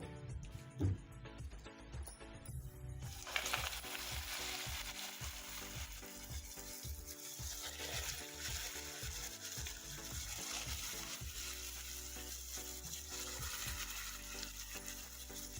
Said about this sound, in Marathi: आता तेलामध्ये वडे सोडून घेऊ